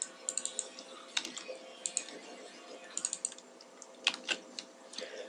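Someone types on a computer keyboard while writing a script, with irregular runs of crisp key clicks and a few louder taps, close up with a steady hum underneath and no talking.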